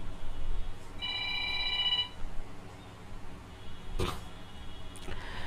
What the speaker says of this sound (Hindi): ये बार बार यार फोन आ जा रहा है